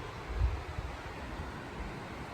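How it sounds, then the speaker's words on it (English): Steady broadband mountain wind rushing and buffeting the microphone on the Pacific Crest Trail in the Sierras, with a low gust swelling near the start before settling into a continuous roar. "It's so windy."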